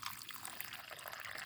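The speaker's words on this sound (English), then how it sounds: "first let me put some water." Water pours steadily into a container while washing fresh shrimp for a Nepali-style shrimp fry curry, a continuous close splashing trickle with no talk.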